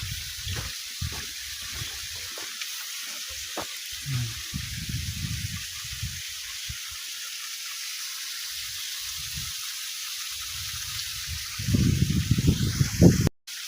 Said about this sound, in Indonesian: Ada air terjun teman-teman.